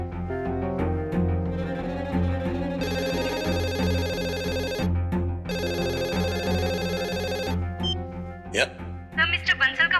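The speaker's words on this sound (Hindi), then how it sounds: "मिस्टर बंसल का फोन आया था मीटिंग कंफर्म कराने के लिए" A telephone rings in an office setting during a Hindi TV drama, two bursts of ringing over music and background sound, followed by a short pause.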